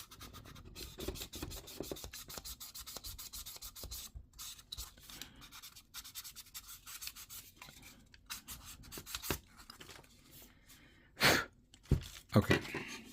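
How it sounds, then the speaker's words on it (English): A 400 grit sanding sponge rubs over a part of a 1/48 MegaScale Zaku II plastic model kit, giving soft, irregular scratchy strokes that stay quiet and close, with a few louder rasping bursts near the end. "Now I'm going to use a 400 sponge to smooth it out."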